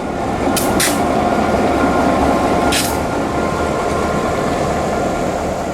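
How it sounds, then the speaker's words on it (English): Clinchfield 800 locomotive hauling a string of vintage passenger cars passes close by with a steady, loud rumble of wheels and engine, broken by a couple of brief sharp squeals or horn-like bursts. "The 800 is pulling the Orlando and Northwestern's collection of vintage passenger cars"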